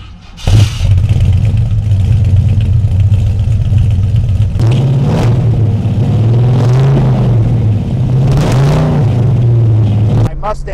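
A 1969 Ford Mustang Mach 1 V8 rumbles loud and close through a MagnaFlow exhaust, settling into a steady deep idle before several throttle blips rise and fall in quick succession.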